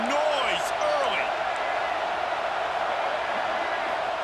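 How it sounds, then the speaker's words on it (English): Stadium crowd noise from an EA Sports football video game roars as a steady, dense wash throughout, with a commentator's voice briefly heard over it at the start. "This crowd bringing the energy and noise early."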